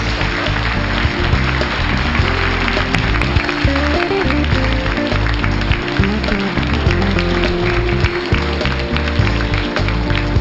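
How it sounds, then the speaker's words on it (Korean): A large audience applauds a speaker at a Seosan city public lecture event, loud sustained clapping filling the whole stretch without a break. "여러분 다시 한번 큰 박수 부탁드립니다."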